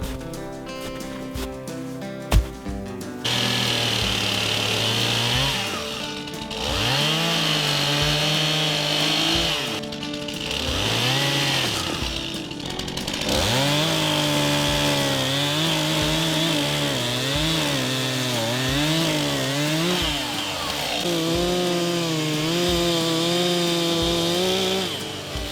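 A chainsaw starts with a few pulls, then runs loudly, its engine rising and falling in pitch as it cuts a small tree into firewood, pausing briefly between cuts.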